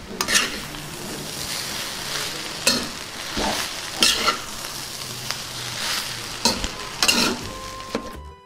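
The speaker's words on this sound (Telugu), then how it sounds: "ముందుగా వండి పెట్టుకున్న అన్నాన్ని ఇందులో వేసేసుకుందాం. మొత్తాన్ని ఒకసారి కలుపుకుందాం." Cooked rice is stirred into mint masala frying in a pan, a continuous crackling sizzle with intermittent scraping and clinking of a utensil against the pan every second or so, close and clear, no talking.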